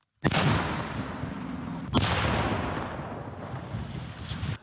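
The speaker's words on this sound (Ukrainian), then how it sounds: "Тому в хід йдуть вже протитанкові міни та чимало тротилу. Зрив!" Anti-tank mines and a large charge of TNT detonate on railway tracks: two heavy, close blasts about two seconds apart, each a sharp crack followed by a long rumbling roar.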